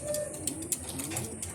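A male pigeon resting in a loft gives soft, repeated low coos at a close, moderate distance, with faint background noise and no talking.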